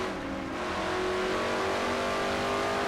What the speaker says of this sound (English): And there's the inside from Osborne's car. He'll go through the front stretch